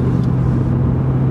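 A 1999 BMW M3 E36 engine hums in a steady, loud drone during a pull, with no break and no voices.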